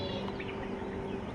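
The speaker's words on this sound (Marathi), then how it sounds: "पक्ष्यांचा किलबिलाट" Birds chirp faintly at dawn near the Maneshwar temple in Konkan, a few scattered light calls over a steady low background hum.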